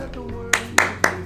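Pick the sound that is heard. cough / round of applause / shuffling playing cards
round of applause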